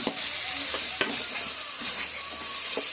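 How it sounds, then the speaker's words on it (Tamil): Food sautés in a pan with a continuous close sizzle and a few quick scraping stirs over about three seconds, with no talk. "நல்லா வதக்கிக்கலாம். பார்த்தீங்கன்னா நம்ம வதக்கிட்டுருக்கோம்."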